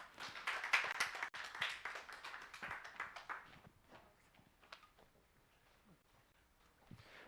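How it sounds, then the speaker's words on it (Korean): Clapping from a youth group audience at a Sunday church service as two young hosts of a monthly birthday party are welcomed, fairly faint and fading out over several seconds. "박수로 맞이해 주세요."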